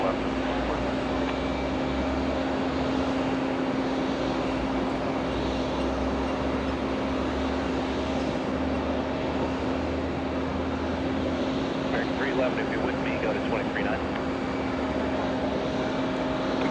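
A Delta Boeing 767-300 arriving at JFK airport, heard as a steady, fairly faint jet roar with a low, continuous rumble that holds evenly throughout, distant and unbroken.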